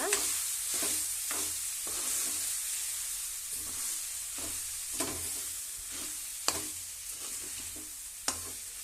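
Cooked jeera rice being mixed in a pot on a switched-off stove, with repeated scraping stirs at irregular intervals and a soft underlying sizzle, quiet and close, with no voices.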